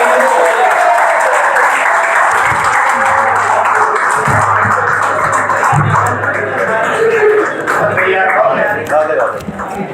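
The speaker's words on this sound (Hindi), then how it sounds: "तालियों का स्वागत करेंगे।" Loud applause from a crowd fills an outdoor-style oath ceremony gathering, continuous and dense, with a voice speaking over it through much of the stretch and a low hum underneath.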